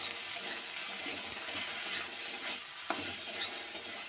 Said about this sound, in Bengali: আলুটা আমি ভালো করে ভেজে নিচ্ছি।